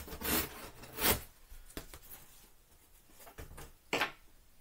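Blade cutting along the edge of a cardboard box, a few rough rasping strokes and scrapes, close and fairly quiet, with pauses between cuts.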